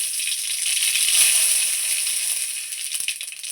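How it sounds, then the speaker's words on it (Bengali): Dry red chillies and mustard seeds crackle and sizzle in hot oil in a wok, a dense steady hiss with a faint pop near the end, close and loud. "শুকনো লঙ্কা সরষা ফোড়ন দিয়ে দিচ্ছি"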